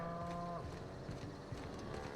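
Woolly cows low in The Outer Worlds, a couple of deep, drawn-out moos over a soft game ambience, fairly quiet and with no talk.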